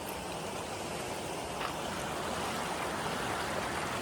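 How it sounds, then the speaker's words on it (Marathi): A river in the Konkan countryside, running high and full in the evening, gives off a steady, dense rush of flowing water that stays even and unbroken throughout, with no voices. "फुल आहे, खूप फुल आहे पाणी. इथे पाणी बघा किती उंच आहे."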